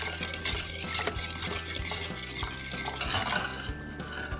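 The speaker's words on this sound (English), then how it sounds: "Now just whisk it until the sugar gets dissolved." A whisk scrapes and stirs sugar into an ice cream base in a bowl, a close, steady run of rhythmic metallic swishes and taps without talk.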